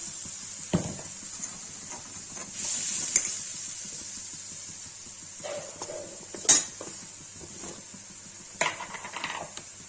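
Tomatoes go into a pan of fried potatoes for an aloo paneer curry. Scattered metallic clanks and knocks of a utensil on the pan sound over a faint sizzle, with a few louder hits midway.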